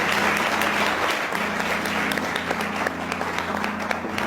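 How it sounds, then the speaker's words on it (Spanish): Audience applause at a live comedy show in Spanish, a steady dense wash of clapping lasting the whole stretch at moderate loudness, with a low hum underneath and no clear talk over it. "Denle un aplauso a este cabrón."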